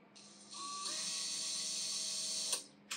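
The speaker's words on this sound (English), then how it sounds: "I'm gonna drill a small pilot hole" A small pilot hole is drilled into a piece of furniture with a power drill, producing a steady high-pitched whine. It runs close and loud for about two seconds, then cuts off.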